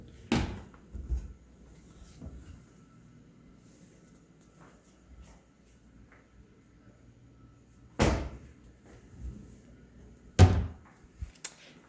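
Kitchen drawers and cabinets in a rental home in North Las Vegas shut with three distinct knocks and slams, one near the start and two close together later, separated by long quiet gaps.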